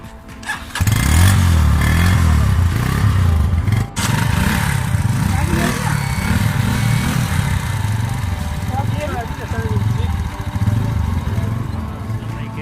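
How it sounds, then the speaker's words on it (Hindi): Heavy motorcycles fire up and rumble close by, a loud, throbbing engine note with uneven revving swells and a brief dip partway, continuing steadily as the bikes get underway. "हैवी बाइक्स मौजूद हैं हमारे पास।"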